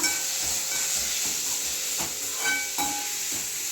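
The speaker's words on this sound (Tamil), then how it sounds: "இப்போ தக்காளி வதங்கட்டும்" Tomatoes sauté in a pan for a liver gravy, giving a steady close sizzle with occasional stirring scrapes and clinks of a utensil against the pan.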